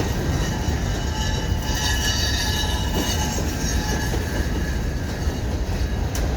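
A CN freight train with a cut of brand new hopper cars rolls past close by, a loud steady rumble of wheels on rail with faint squeals and clicks throughout.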